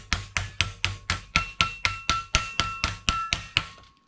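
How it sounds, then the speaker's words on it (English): A hammer flattens automotive sheet metal in a steady series of about fifteen sharp metallic blows, evenly spaced and close, each with a brief ringing decay. "then we could take a hammer and continue to take the hammer and flatten that out"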